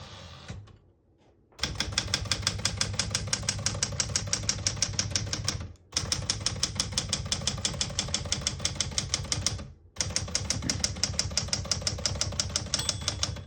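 A 1976 Smith-Corona Classic 12 portable typewriter is typed on in three long runs of rapid, close, crisp key strikes separated by brief pauses, with no talking.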